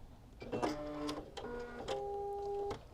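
A sewing machine stitches through layered fabric for a fabric bowl, its motor whirring in several short bursts with brief pauses between runs, close and fairly steady.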